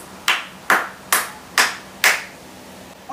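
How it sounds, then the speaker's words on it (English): Five evenly spaced sharp claps from a class audience in a school lesson, each crisp and ringing, in a steady rhythm about half a second apart, loud and close with no talking. "Give them 5 claps."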